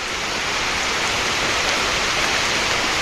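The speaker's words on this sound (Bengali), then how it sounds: "বৃষ্টি নেমে গেছে" Steady rain hisses down without a break, an even wash of falling drops with no voices.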